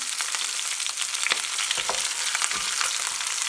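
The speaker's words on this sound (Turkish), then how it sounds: "Her yerini bu şekilde kızartacağız" Lamb shank sears in a hot pan, a steady close sizzle and crackle with a few louder spits and pops throughout, no voices.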